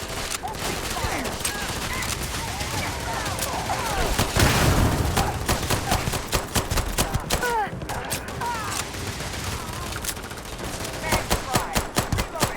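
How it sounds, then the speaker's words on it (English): Bursts of rapid automatic gunfire crackle in Starfield, loud and close, in dense volleys and sharp single cracks, mixed with shouted combat voices. "Opening fire!"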